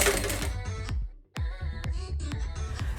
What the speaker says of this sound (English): And now simply sew all around the neckline.